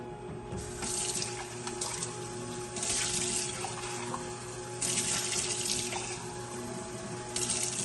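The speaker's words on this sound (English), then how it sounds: "I'm gonna add some more water to it." Tap water runs steadily into a pasta machine's mixture for homemade pasta, a continuous close splashing hiss that swells louder in several bursts, with no talking.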